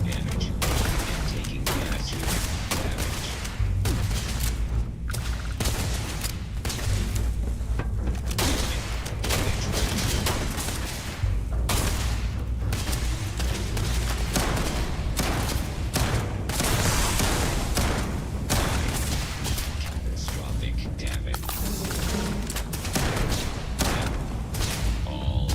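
Gunfire in the Starfield game, a long stretch of frequent shots, thuds and booms at an irregular pace, loud and close, with someone talking over parts of it.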